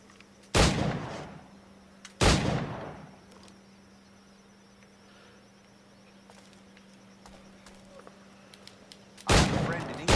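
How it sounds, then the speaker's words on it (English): Three loud musket or pistol shots ring out at targets in Assassin's Creed IV Black Flag, each a sharp blast with a decaying tail, spaced irregularly over a low steady hum. "I have to shoot every single one of these targets"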